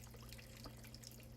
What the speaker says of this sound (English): So this is my waterfall.